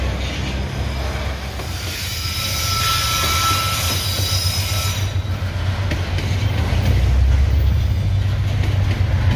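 A railway freight wagon for cellulose rolls past close by, a loud continuous rumble of wheels on rails with high metallic squealing and some rhythmic clatter throughout.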